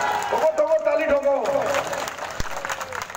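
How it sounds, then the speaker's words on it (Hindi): Rally crowd applauding a political speaker, a broad wash of clapping that swells under a loud amplified voice and then thins out as the speech goes on. "ठोको ठोको ताली ठोको।"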